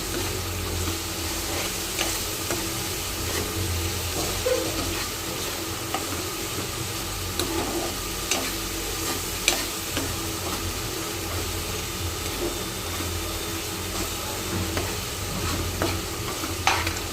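Tomatoes frying in a pan for a fenugreek-leaf dish, a steady close sizzle and hiss with scattered light scrapes and clicks of stirring throughout, no voices.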